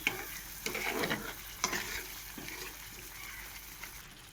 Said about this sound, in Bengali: নেড়ে চেড়ে